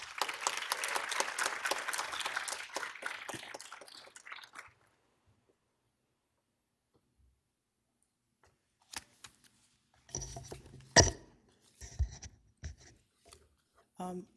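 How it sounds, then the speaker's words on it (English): A short burst of clapping from a small audience fades into silence, followed by scattered handling noises and thumps. "Let's welcome Didier with a round of applause"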